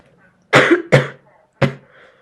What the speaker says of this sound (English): So I apologize for the coughing.